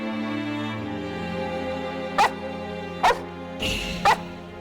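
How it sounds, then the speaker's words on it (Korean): A pet dog on a walk across a bridge in Scotland barks at empty air: about four sharp, fairly close barks roughly a second apart, heard over a steady low musical drone. "애완견이 갑자기 멈춰서더니 허공을 향해 짖기 시작한 거야"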